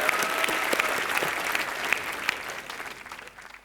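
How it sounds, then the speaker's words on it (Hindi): A studio audience at a live Hindi comedy show gives a sustained round of applause, dense clapping heard alone that gradually thins and fades toward the end. "भट्ट साहब के लिए एक बार जोरदार तालियां"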